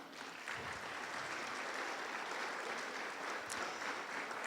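A congregation at a church worship service claps together in sustained applause, a dense even patter of many hands that holds steady throughout without voices standing out.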